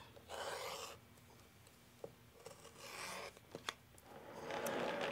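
Quilt fabric squares cut along a ruler, heard as three soft, brief scraping strokes spaced a second or two apart, close but quiet, with light clicks and handling noises between them.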